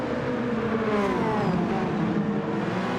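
A race car engine in Gran Turismo 7 drones steadily at high revs during a Le Mans race, with a constant, loud tone that gradually rises in pitch on a straight.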